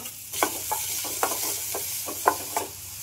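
Onions fry in a cumin tempering in a pan, a soft, steady sizzle punctuated by regular scraping stirs of a spoon, fairly quiet and close, with no voices.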